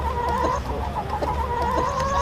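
Homestead chickens cluck continuously close by, with several overlapping fowl calls and a steady murmur, no talking.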